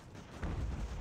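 Musket volley fired at enemy artillery in the game Ultimate General: American Revolution, a low rumbling burst of gunfire that swells loudly halfway through and holds as a dense booming roar.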